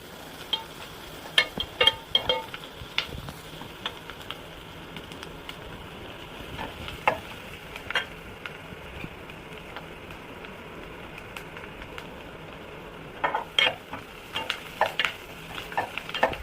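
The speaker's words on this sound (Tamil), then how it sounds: "வெங்காயம் நல்லா வதங்கினோடனே இந்த தக்காளியை ஊற்றணும்." Blended tomato poured onto sautéed onions in a pan for a Tamil-style brinjal kara kuzhambu, giving a steady low sizzle with scattered stirring clicks and scrapes, fairly quiet and without talk.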